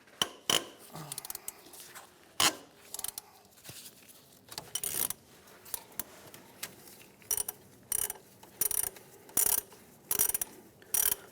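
Ratchet clicking in repeated bursts while loosening 12mm bolts on the belt tensioner of a 2003-2011 Honda Element, close and crisp, with short pauses between strokes and no talk.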